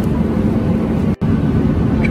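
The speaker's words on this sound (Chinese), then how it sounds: "上飞机了，一会儿要起飞。" A steady, loud broadband hum fills the cabin of a Shandong Airlines passenger plane as it waits before takeoff. The sound drops out for a moment partway through.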